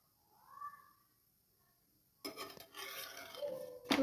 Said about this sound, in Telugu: చూడండి ఇలా నార్మల్గా కొంచెం కొంచెం ఫాస్ట్గా తిప్పుకోవాలి.